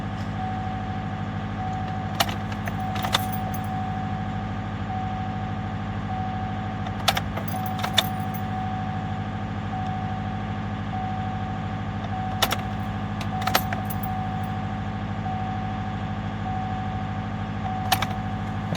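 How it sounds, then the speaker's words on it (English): Keys jangle in the ignition of a Silverado truck as the key is cycled on and off, short metallic rattles recurring every few seconds over a steady hum from a fuel pump that sat rusted for seven months, close, no speech. "I'm just going to cycle the key a few times and we'll see what happens."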